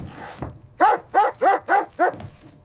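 A dog barks five times in a quick, even series, close and loud, after a softer lead-in sound.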